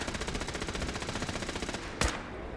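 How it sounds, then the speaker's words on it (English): Rapid automatic gunfire from the Fallout 4 video game, a steady fast stream of shots that stops abruptly, then one sharper blast just after; no speech over it. "Oh, something's shooting at her."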